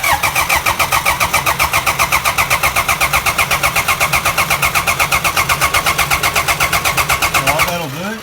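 A car engine cranks over steadily on the starter during a compression test, a loud, fast, even rhythmic churning that runs for about eight seconds before winding down.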